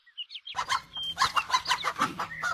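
Chickens of a good breed, a hen and rooster on a farm, cluck in a rapid series of short, close calls, with brief higher chirps at the start.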